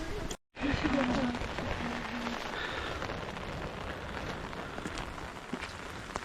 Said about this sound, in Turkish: Yağmur şiddetini arttırdı.